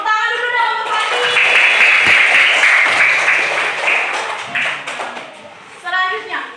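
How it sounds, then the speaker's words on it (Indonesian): A classroom of children claps together for a student, a loud, dense burst of applause lasting a few seconds between stretches of a teacher talking. "Tepuk tangan dulu dong untuk Fatih."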